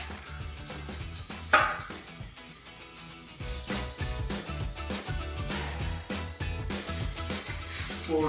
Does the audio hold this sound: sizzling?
yes